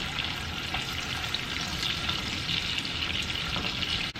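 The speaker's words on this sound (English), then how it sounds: "So we're going to cook the onion until it's like a nice translucent color." Onion sizzles steadily in a hot pan ahead of garlic-marinated shrimp, a dense even frying hiss with faint occasional stirring, close and continuous with no talking.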